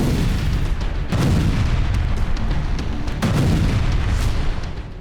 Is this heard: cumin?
no